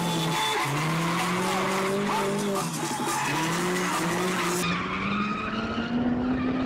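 Tesla Model 3 with an Ingenext Boost 50 remap drifting with traction control off on a private road, a loud continuous wavering tire screech with shifting pitch, close and sustained throughout.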